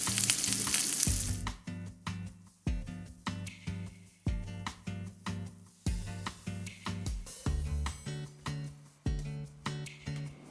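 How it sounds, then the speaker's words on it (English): Tuna steaks sear in a hot pan over medium-high heat, a steady sizzle running beneath loud rhythmic music with regular beats throughout. "We've seared the tuna on both sides."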